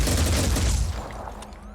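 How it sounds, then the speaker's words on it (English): Rapid gunfire aimed at an explosive barrel in the Blood and Titanium video game, a dense loud burst of shots and blast rumble that decays into a quieter tail. "Let's just see what damage we can do if we just fire at the big explodey barrel"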